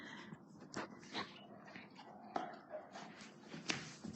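A pet dog whimpers and yips in short, breathy bursts while being tickled, close and soft, with snorts between the cries and no talking.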